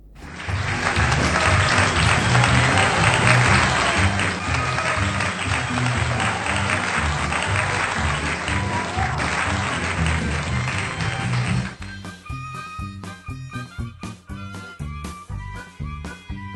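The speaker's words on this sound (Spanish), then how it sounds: "quiero agradecer ese hermoso aplauso de la última función" Enthusiastic audience applause after a theatre performance fills the first twelve seconds as dense continuous clapping, then cuts abruptly to music.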